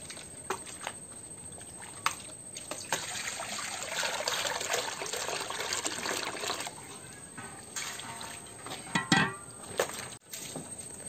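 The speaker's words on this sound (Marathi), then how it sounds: "इथे आपलं सूप धुवायचा कार्यक्रम चालू आहे." Water is poured and trickles while a woven winnowing tray is washed and scrubbed of red soil. Quiet splashes and dribbles come intermittently, with occasional knocks and a brief louder gush near the end.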